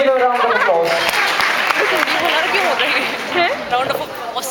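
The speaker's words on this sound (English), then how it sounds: "Please give a round of applause." An audience at a school stage quiz final claps in a round of applause, a dense steady patter of many hands lasting several seconds, mixed with crowd chatter and a voice talking over it.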